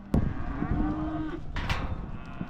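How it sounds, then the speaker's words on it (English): Weaning calves bawl loudly for their mothers in a ranch pen, a couple of long moos close by over a steady background of other cattle calling. "they are gonna still be bawling for their moms"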